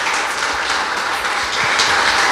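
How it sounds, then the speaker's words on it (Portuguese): A church congregation applauds together after a Bible study meeting, a dense, steady wash of many hands clapping that holds evenly for the whole stretch with no voices on top. "Dê uma linda salva de palmas ao Senhor Jesus."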